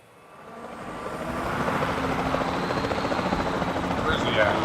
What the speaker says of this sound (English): There's the helicopter over there.